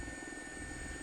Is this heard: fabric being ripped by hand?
no